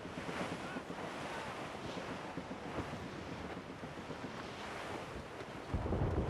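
In Assassin's Creed Rogue, wind and waves of a squall at sea roar in a continuous dense wash of surf and gusts, growing heavier with a deeper rumble at the end.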